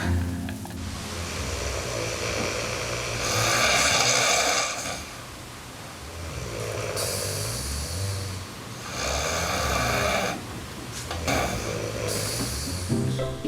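Loud, rasping snores repeat in slow cycles, each breath a long rough rumble followed by a quieter pause, close by and alone.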